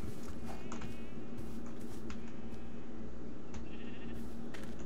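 Sheep in the RLCraft Minecraft modpack bleat several times in quick, wavering cries, close and clear, over a steady background hum of game noise and faint footstep-like clicks.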